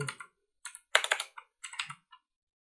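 Computer keyboard typing in short bursts of clicky keystrokes with pauses, close and fairly quiet, while code is copied and pasted; no speech.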